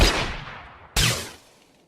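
Sniper gunfire in a video game: two sharp, loud shots about a second apart, each cracking hard and then trailing off in a long echoing decay.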